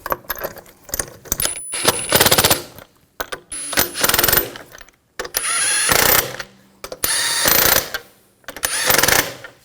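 Wrench bursts driving lug bolts onto a 2000-2006 BMW X5 wheel during rear control arm replacement: several loud, rattling ratchet-like runs of a second or so each, separated by short pauses, close by with no talk.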